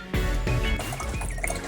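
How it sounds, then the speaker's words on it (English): Water pours into a bowl holding 30 grams of salt to make a brine for scallops, a short continuous splashing fill close by, with tonal background sounds underneath. "And add 1 liter of water."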